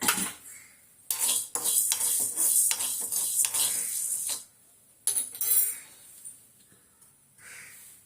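Horse gram dry-roasting in a pan on low heat, with a spoon repeatedly stirring and scraping the dry seeds in loud, dense bursts broken by short pauses.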